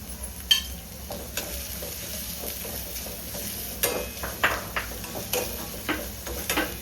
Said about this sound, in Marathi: चांगलं लाल होईपर्यंत व्यवस्थित कांदा भाजून घ्यायचा आहे तेलामध्ये, एकदम लाल व्हायला पाहिजे.